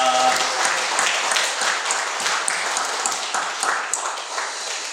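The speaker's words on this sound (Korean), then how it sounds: "우리 예배를 받으실 하나님께 영광의 박수 올리겠습니다" A congregation at a Sunday service in a Methodist church claps in praise, producing dense, steady applause that fills the whole stretch at an even, moderately loud level.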